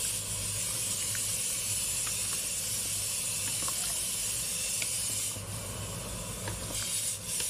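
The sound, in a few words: tomato sauce with spices simmering in a pot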